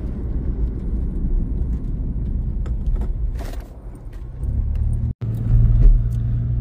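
A Toyota Yaris car with a steady low engine rumble running throughout, close by, briefly cutting out for an instant before resuming slightly louder.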